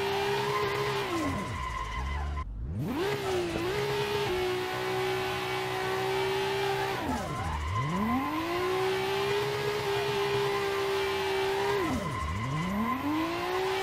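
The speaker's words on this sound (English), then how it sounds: "Let's do some burnouts." Nissan 180SX burnouts in Assetto Corsa: a steady, loud engine drone with the tires squealing continuously, the pitch dipping and rising three times as revs drop and build back, with no talking.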